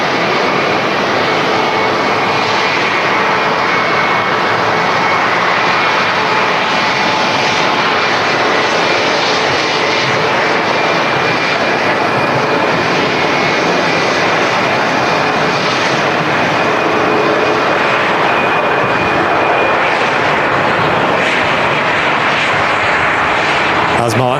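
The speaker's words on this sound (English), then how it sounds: "Huge Pratt & Whitney 1100G engines on the Embraer E2." An Embraer E2 jet with Pratt & Whitney 1100G engines at a windy Manchester Airport, its loud, sustained engine roar filling the air continuously with a steady broadband rush, while people talk faintly.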